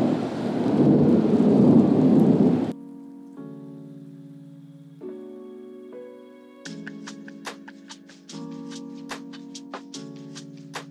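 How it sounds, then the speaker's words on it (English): Thunder from a winter night storm rumbles deep and loud for a few seconds, then cuts off, leaving soft sustained musical tones. "That was thunder and lightning now."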